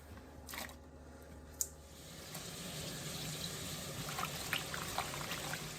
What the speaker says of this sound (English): we're going to go ahead and add them to this bowl of water so that they can soak